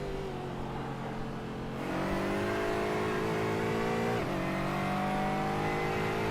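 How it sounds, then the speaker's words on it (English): Aston Martin 4-litre V8 GT4 race car in a sim racing game at Imola, roaring loudly and steadily as it accelerates, its engine pitch climbing through the gears with a brief dip at a shift, no voices. "The Aston Martin making one hell of a noise. This 4-litre V8 engine roaring its way down to Rivazza."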